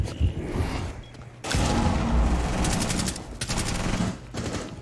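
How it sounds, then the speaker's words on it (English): Rapid automatic gunfire from a Thorn 1.5 weapon in a shooter video game, fired in several long sustained bursts with short gaps, loud and close with no talking over it. "I just shot my gun"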